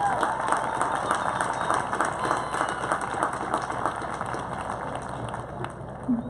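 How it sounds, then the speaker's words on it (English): A graduation ceremony audience breaks into a round of applause, dense sustained clapping from a large crowd heard at a distance in a reverberant space, holding steady before slowly thinning out. "I think that deserves a round of applause."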